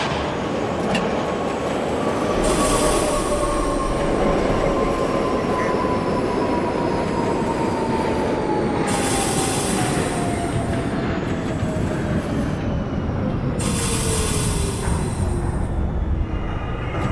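An NYC Subway R32 F train runs steadily in the OpenBVE simulator, a continuous loud rumble of rails and wheels with a drawn-out squeal and recurring hiss bursts, no talking.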